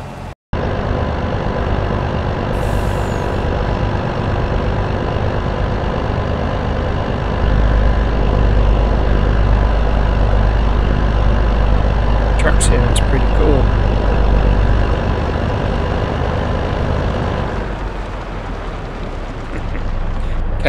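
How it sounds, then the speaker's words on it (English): Steady, loud engine drone of a cotton harvester truck driving in Farming Simulator 22 on a huge flat field, a continuous low rumble that holds for most of the stretch before easing off near the end. "I might jump into one of our cotton harvester trucks"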